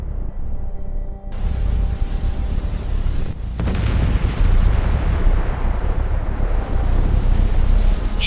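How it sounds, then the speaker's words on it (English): An asteroid impact explosion erupts as a sudden deep rumbling blast that swells into a sustained, roaring wall of low noise, loud and continuous like a violent windy shockwave. "The asteroid hit Earth with unimaginable force. The explosion was stronger than billions of nuclear bombs."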